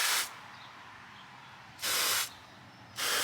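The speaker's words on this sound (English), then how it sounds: "just shoot a little bit of silicone right in here" Silicone spray hisses from an aerosol can onto a car's plastic engine cover, three short close bursts separated by quiet pauses.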